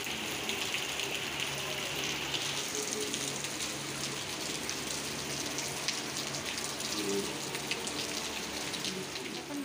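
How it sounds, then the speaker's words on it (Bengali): Stormy rain falls steadily at night in Bengal, a dense continuous patter of drops hitting surfaces at an even, fairly quiet level without a break. "ঝড়ে বৃষ্টি হচ্ছে।"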